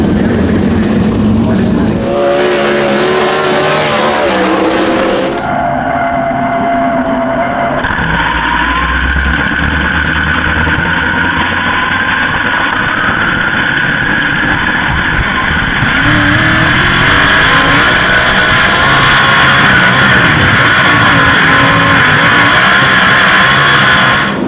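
Sprint car engines roar loud and close at a Speedweek race meeting, a sustained, dense blare that rises and holds with shifting pitch as cars race past, drowning out everything else.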